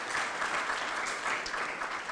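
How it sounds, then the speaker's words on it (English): An audience at a technical session applauds the panelists with a brief, moderately loud burst of steady clapping heard from within the room. "Join me to clap for the panelists for the good job."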